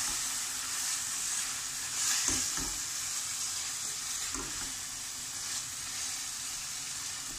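Baim fish sizzles steadily in a pan while being mixed with spices, a soft continuous frying hiss with a few brief stirring scrapes.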